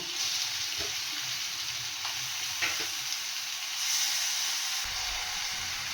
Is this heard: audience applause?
no